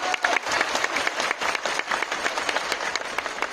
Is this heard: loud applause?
yes